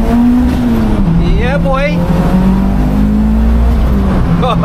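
A 460bhp Mk2 Golf G60 Rallye with a factory supercharger pulls hard through second gear, its engine droning loud and steady, close by. Someone speaks over it.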